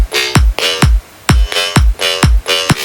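A synth bass line with low end rolled off, distorted in its upper harmonics by Ableton's Amp, plays short punchy notes in a choppy rhythm with gaps between, loud and upfront, no voices.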